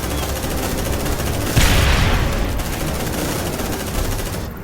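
Gunfire from several weapons in the Aliens: Dark Descent video game on PS5: a dense, steady volley of rapid shots across the whole clip, swelling with a louder burst partway through, with no talk over it.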